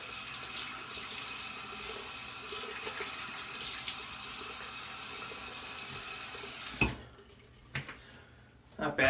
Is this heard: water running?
yes